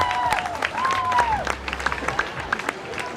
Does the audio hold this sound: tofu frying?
no